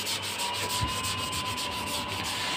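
Limescale being scrubbed off the glass door of a washing machine with a metal-fibre scourer, a steady run of rhythmic rubbing strokes, close and continuous, with no voices.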